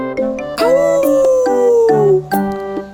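A loud, drawn-out howl rises and slowly falls, joined by shorter wavering canine howls and yips in a continuous chorus.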